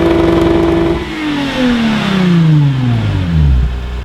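A car engine with a newly fitted loud aftermarket exhaust revs hard up close, then falls away in a long descending drone, its rough exhaust note staying strong through the fall.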